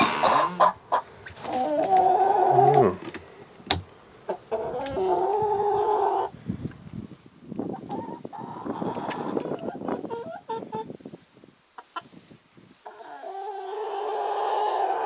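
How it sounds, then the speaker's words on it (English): Chickens cluck and squawk close by in bursts, with a person talking among them and brief pauses between the calls. "These are some awesome chickens,"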